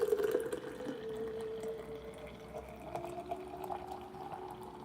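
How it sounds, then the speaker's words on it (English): Fresh watermelon juice pours steadily into a glass jar, a continuous liquid stream with a gently shifting filling tone, close and moderately quiet. "I have a glass jar here, and we're just gonna pour it in."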